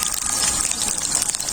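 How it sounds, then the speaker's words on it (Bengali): Eggplant frying in hot oil for a mixed vegetable dish gives a dense, steady, close sizzle with a watery hiss throughout, and no voices. "তেল খুব ভালোভাবে গরম হয়ে গেছে, এক এক করে সব সবজিগুলো ভেজে নেব। প্রথমে বেগুন ভেজে নিচ্ছি"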